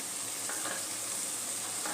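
Okra and spices fry in a pan with a continuous dense sizzle and crackle, steady and fairly close, with no voices over it.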